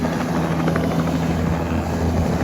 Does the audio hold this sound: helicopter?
yes